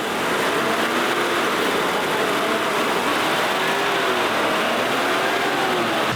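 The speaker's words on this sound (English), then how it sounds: "This is our first startup with the new fuel system in it." A Mercedes W126 engine idles steadily on its first startup with a new fuel system, a continuous even rumble heard alone at moderate level.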